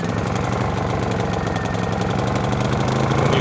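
A Honda generator running on JP-8 fuel drones steadily and loudly, a continuous close engine hum with a rough, slightly knocking pulse throughout, no voices.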